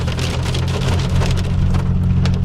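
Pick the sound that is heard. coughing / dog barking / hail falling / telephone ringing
hail falling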